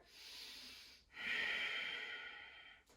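Deep breathing held during a core yoga pose, one long inhale followed by a longer, louder exhale, close and alone.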